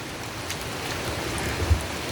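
Steady rain falls outdoors in a garden worm-composting area, a soft continuous patter of drops on surfaces with a brief low thump near the end.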